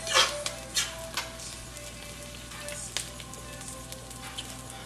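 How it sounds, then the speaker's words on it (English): Sausage drops into a pot of zucchini and squash and sizzles with a steady, close crackle of frying, broken by a few sharp clatters early on and no talking. "So we're gonna add the sausage to the pot now."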